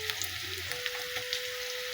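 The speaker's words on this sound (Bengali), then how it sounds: "এটা একটু ভাজা ভাজা হোক" Onions and spices frying in a pan sizzle steadily and close by, a constant bright hiss with faint crackles and no voices over it.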